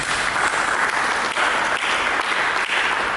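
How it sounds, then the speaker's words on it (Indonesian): A church congregation claps continuously, a dense, lively wash of applause that holds steady throughout. "mari kita berikan salam sejahtera dan tepuk tangan bagi Tuhan Yesus"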